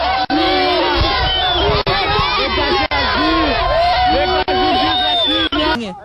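A large, loud crowd of fans shouts and cheers continuously, a dense wall of overlapping voices with brief dips, at a street celebration in the rain.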